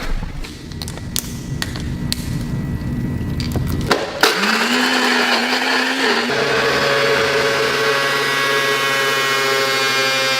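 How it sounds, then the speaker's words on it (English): Clicks and clattering give way to a blender whirring loudly nearby, its motor pitch shifting slightly partway through before settling into a steady drone. "hopefully she can't hear me in the blender in here"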